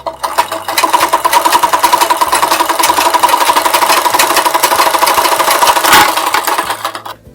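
A sewing machine stitches a blouse sleeve in one long, loud, continuous run of fast, even needle pulses that starts just after the opening second and winds down near the end.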